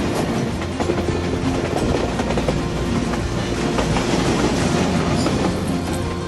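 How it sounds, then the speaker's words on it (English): The Blue Mountain mountain train rumbles steadily along the rails between Ooty and Coonoor, with a rhythmic clickety-clack of wheels, loud and close, with no voices. "riding this train past Katy into Coonoor is almost like a homecoming"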